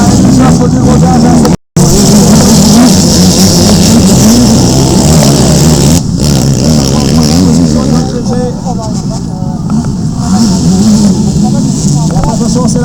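Racing vehicle engine held at full throttle, a loud, continuous rasping roar with shifting pitch over nearly thirteen seconds, briefly cut out once, with an excited announcer talking over it.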